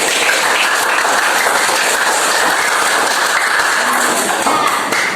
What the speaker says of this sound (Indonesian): Beri tepuk tangan untuk dia yang sudah menyebutkan